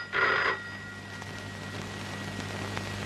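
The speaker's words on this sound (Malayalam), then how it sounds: "ഫോൺ എടുക്കാതെ രജനിക്കാണെന്ന് മേട്ടൻ എങ്ങനെ തീരുമാനിച്ചത്?" An old telephone gives a single short electronic ring burst near the start, then fades into a quiet hissing room tone for the rest of the moment, with no voices.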